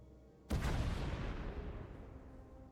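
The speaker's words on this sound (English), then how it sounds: "We heard explosions. The tunnel collapsed." A sudden loud blast in the Star Wars: The Old Republic game, a tunnel collapsing with a booming explosion that hits at once and then rumbles on as a long, slowly fading roar of debris.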